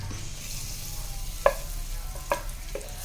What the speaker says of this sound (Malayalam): പാൻ വെച്ചിട്ട് അതിലേക്ക് ബട്ടർ ഇട്ടിട്ട് ഉരുക്കിയതിന് ശേഷം നമുക്ക് ആ മസാല ഉള്ളി മസാലകളൊക്കെ വരട്ടാൻ വേണ്ടിയിട്ട് തുടങ്ങാം